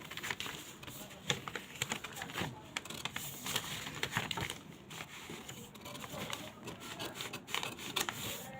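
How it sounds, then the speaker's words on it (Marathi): Scissors cut through a paper pattern for a size 36 Katori blouse close to the microphone, making continuous dry crisp snipping and rustling with an uneven rhythm and no break. "सुरुवातीला पाठीमागचा मुंडा तो कट करून घ्यायचा आहे आपल्याला."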